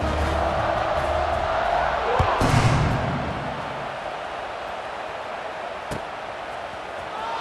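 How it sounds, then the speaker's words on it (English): A football stadium crowd roars during a kickoff, a dense, steady wash of cheering from a large audience, punctuated by a couple of dull thuds. "this crowd is feeling themselves after that last drive"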